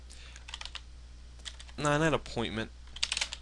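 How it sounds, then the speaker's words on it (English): Code is typed on a computer keyboard during a VB.NET programming tutorial. Soft, close key clicks come in quick irregular bursts, with a short stretch of quiet speech in the middle. "basically you just type function, and then you type the name of your function"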